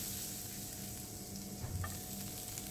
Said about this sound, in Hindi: यहाँ पर मैंने 1 टेबलस्पून ऑयल ऐड किया है, 1 टीस्पून गार्लिक पेस्ट ऐड किया है